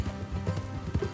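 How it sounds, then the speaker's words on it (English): Horse hooves clip-clop on the ground in a video game, a quick, uneven series of muffled thuds over a brief moment with no talk. "Let's leave the horses here and go the rest on foot."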